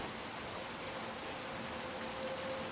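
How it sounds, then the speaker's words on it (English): Steady rainfall in the Little Nightmares 2 video game, a dense, even hiss of drops pattering on surfaces that holds at a moderate level throughout with no voices. "I like the sounds of the rain."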